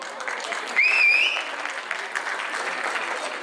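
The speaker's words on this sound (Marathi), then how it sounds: "तुम्ही जो कार्यक्रमाला शिट्ट्या आणि टाळ्यांचा कडकडाट देऊन प्रतिसाद देत आहात" An audience at a Chaitra month and Maharashtra Day cultural program claps steadily throughout, a bright whistle cutting through near the start while the applause rolls on.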